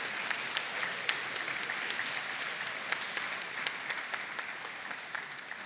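Steady, dense applause from an audience at a high school honors night, a sustained wash of many hands clapping at moderate volume, with no voices over it.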